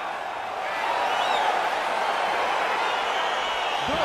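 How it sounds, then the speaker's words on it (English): Crowd noise from an EA Sports UFC 4 fight as it gets underway, a steady, dense roar of cheering that swells slightly after the first second and holds at an even level throughout, with no talk over it. "crowd getting excited as this fight gets underway"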